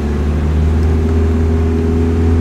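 Steady, loud engine drone from a Nissan 240SX driving, heard from inside the car, with a constant low hum and no talking.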